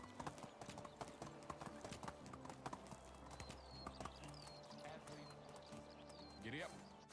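Horse hooves clip-clop steadily in Medieval Dynasty, a quiet run of repeated hoof strikes under a low ambient drone, with a few faint chirps and a brief voice near the end.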